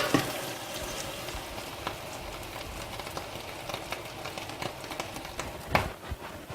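Vegetables for couscous fry in hot oil in a pan, giving a steady, even sizzle with small crackles and pops. One sharper spatter stands out near the end, and nobody speaks.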